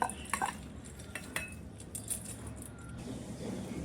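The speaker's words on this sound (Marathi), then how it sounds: "आता आपण त्यामध्ये बघा हे पोहे घालून घेऊया." Poha flakes being added to a bowl and mixed in: faint, scattered clinks of a utensil against the bowl with soft rustling, quiet and close, with no talk.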